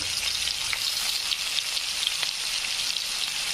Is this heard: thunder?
no